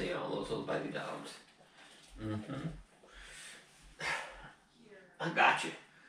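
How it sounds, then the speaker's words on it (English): Small, high yips and barks from seven-week-old puppies come in short bursts, mixed with a person talking close by throughout. "I see all those little baby dogs."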